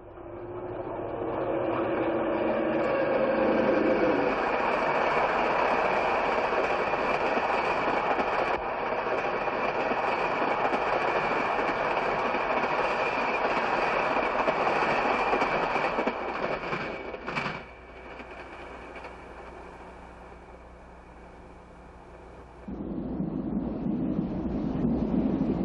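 Burlington's California Zephyr passenger train with three dome cars rounds a curve at Naperville, Illinois, a steady loud diesel rumble and wheel noise that dips briefly before swelling again near the end.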